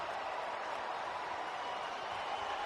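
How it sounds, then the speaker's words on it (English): A stadium crowd roars in a continuous, dense wash of cheering, loud and unbroken, with no distinct voices standing out. "The roar of the crowd."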